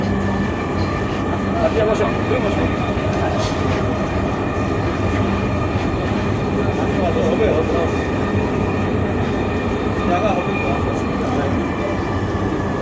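Dhaka metro rail train running near Mirpur 10 station, heard from inside as a loud, steady rumble and whine with a constant hum, while voices sound faintly over the noise.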